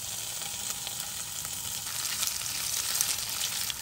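Salted egg frying with garlic in hot oil in a wok, a steady broadband sizzle with crackling pops that swells slightly louder toward the end, close and with no talk.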